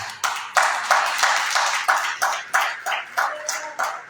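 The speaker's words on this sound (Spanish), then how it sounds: "si le damos aplauso, hacerlo con el corazón" A church congregation claps together in a steady rhythmic beat, about a dozen loud, evenly spaced rounds of applause close to the microphone.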